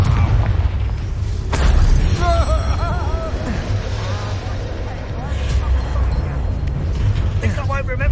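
A Confringo fire spell goes off in the video game Hogwarts Legacy, a loud booming blast set among continuous game sound with music and effects, while a player's voice is heard over it.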